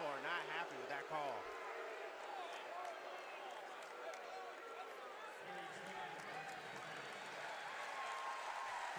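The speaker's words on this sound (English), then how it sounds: "Bradley faithful, many of them standing, applauding his efforts tonight." A basketball arena crowd at Carver Arena in a college game, Northern Illinois at Bradley, applauds a fouled-out player, steady crowd clapping and cheering running throughout beneath continuous commentary.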